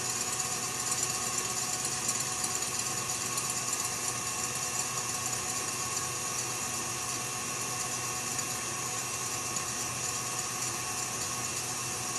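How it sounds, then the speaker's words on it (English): An electric mixer whisks pumpkin chiffon cake batter at medium speed, giving a steady, even motor hum with a constant pitch that holds unchanged from start to finish. "As I'm whisking on a medium speed, I'm not going to go higher than that."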